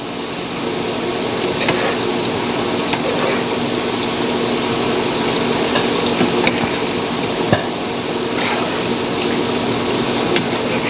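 Steady, loud sizzling of plantain frying in hot oil, a constant crackling hiss with occasional pops, no talking.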